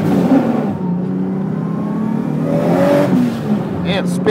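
A Nissan S14 with an RB30 engine and a Holset HY35 turbo pulls hard under boost, a loud engine roar with rising pitch and a brief shift near the end, heard from inside the car.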